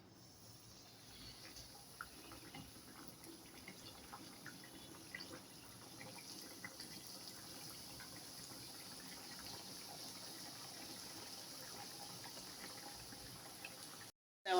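Chicken pieces go into lightly warm oil for a burger recipe and fry with a gentle, steady sizzle and soft crackle, close and fairly quiet, continuing evenly without any talking.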